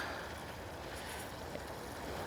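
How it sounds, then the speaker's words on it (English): A backyard koi pond waterfall is switched on, giving a steady, broad rush of flowing water that fills the space evenly and continuously without any voices. "I'm going to start the waterfalls so I can at least get some water flowing"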